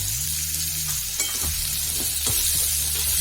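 A spicy pumpkin fry sizzles steadily in a pan while being stirred, with scraping stirring strokes heard through the constant frying hiss. No one talks.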